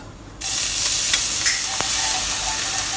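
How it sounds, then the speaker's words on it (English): Three cloves of chopped garlic hit hot oil in a pan for Chinese takeout-style mui fan gravy rice, bursting into a loud, steady, close sizzle that hisses on without a break. "Heat up a pan, add in a suitable amount of oil, swirl the oil around. We add in 3 cloves of garlic chopped."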